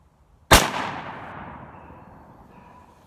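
A single loud, close rifle shot from a Winchester 94 lever-action fired off a rest with cast bullets, a sharp crack followed by a long fading reverberant tail.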